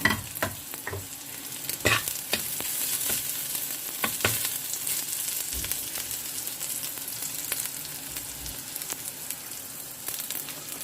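Garlic fries in hot oil in a wok, giving a steady crackling sizzle with scattered sharper pops and clatters of stirring, close and continuous.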